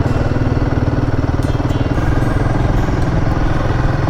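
A Royal Enfield Himalayan motorcycle engine chugs steadily at low revs on a forest ride, a loud, close, continuous rumble with an even throbbing pulse throughout.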